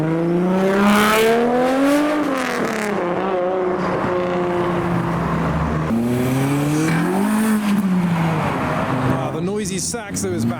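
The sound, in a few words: Nissan Skyline R34 GTT car leaving a show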